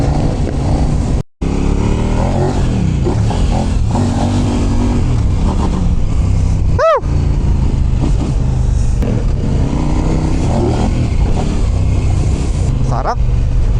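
A Kove 800X Pro adventure motorcycle is ridden along a coastal road, its engine droning steadily with wind rush close to the mic, a brief dropout and a rising whistle partway through, and a rider talking over it.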